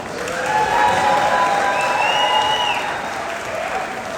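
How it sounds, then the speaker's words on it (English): Audience applause for the orchestra's musicians at the Cobblestone Ballroom concert: dense, steady clapping from a large crowd with faint cheering, loud and close, holding for several seconds before easing slightly. "Give these musicians a big round of applause."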